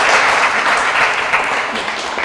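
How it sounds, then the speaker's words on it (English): Audience applauding graduates at a GV BOCES Electro-Mechanical Trades ceremony, a dense, steady wash of many hands clapping at close range throughout, with no speech over it. "I want everyone to give yourselves a round of applause again."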